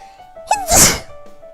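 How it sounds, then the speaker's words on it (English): A single sharp sneeze bursts out close to the microphone indoors, a quick inhaled buildup then a loud explosive release lasting under a second, with a faint steady tone in the background before and after. "15 seconds into a video and you have to sneeze."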